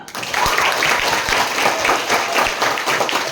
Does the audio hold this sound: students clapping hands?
yes